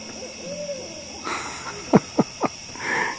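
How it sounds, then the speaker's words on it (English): Owls hooting in a quiet outdoor setting, with three short distinct calls in quick succession over a steady background hiss. "Can you hear that? Those owls are going crazy."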